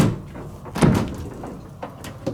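A hotel room fridge door is pulled open with a dull thump, followed by a few light rattles and clicks nearby.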